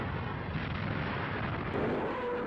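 Nebelwerfer rocket artillery of the Second World War firing, a sustained roaring rush of launch noise filling the clip, loud and dense without distinct separate blasts.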